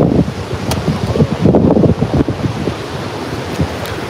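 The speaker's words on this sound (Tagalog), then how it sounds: "Hindi nakikisamang hangin" Strong wind buffets and roars against the microphone in loud gusts, with a surf-like rush underneath and no voices.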